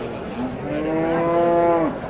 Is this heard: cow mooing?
yes